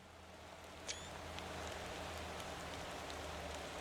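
Steady rain in the Motor Town: Behind the Wheel driving game, a soft, even hiss of falling drops with a faint tick or two, continuous and fairly quiet with no voices.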